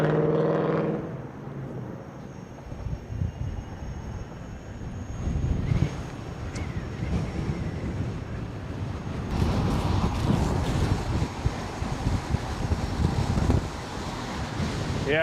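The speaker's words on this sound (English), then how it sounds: "Yeah, this is pretty crazy headwind here." Strong headwind roars and buffets against the microphone while someone rides a KingSong 18L electric unicycle, a loud continuous rushing that swells and gusts throughout.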